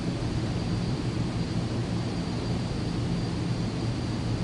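A steady, loud roar of an aircraft engine at takeoff power in Microsoft Flight Simulator 2024 on the runway, a constant broadband rush with no pauses.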